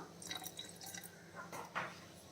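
A small amount of water is poured into a mixer jar while ragi appam batter is prepared, giving a few quiet, close trickles and drips with a louder splash near the end.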